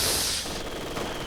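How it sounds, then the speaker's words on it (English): A mortar barrage shell from Company of Heroes 2 erupts in a loud, dense roar of noise that eases slightly after a moment and then holds steady. "One more shell in that mortar barrage."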